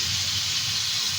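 Marinated chicken fries in hot oil with a steady, close sizzling hiss that stays even and unbroken throughout.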